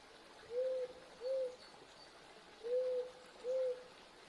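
Owl hooting in the Eastshade game world: four soft, even hoots arriving in two pairs, moderately close against a quiet ambient background with no talk.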